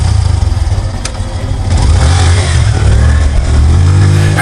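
Motorcycle engine in a Hindi cartoon story revs loudly and steadily, a close, continuous throaty rumble with rising throttle, alone without talk.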